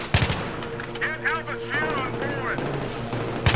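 Burst-fire gunshots in the Battlefield 3 video game crack out at the start and again at the very end, bracketing a stretch of game noise with voices talking in between.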